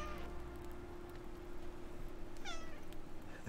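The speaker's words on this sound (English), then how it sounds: "Do you guys hear the loud kitty here?" A cat in the survival game ICARUS gives one loud, rising meow partway through, standing out over a constant background of falling rain and a low steady hum.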